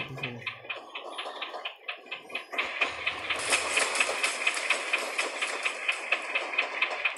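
A coal-fired steam locomotive in an Indian train simulator game, running through Rajasthan: rhythmic, quickening chuffs that swell into a steady, loud chugging beat with clanking wheels, no speech.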